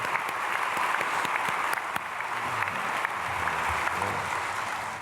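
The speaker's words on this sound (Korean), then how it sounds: "박수." A church congregation at a Sunday worship service claps for two soloists: a full, continuous round of applause across the hall, holding steady and tapering slightly at the close, with faint low voices underneath.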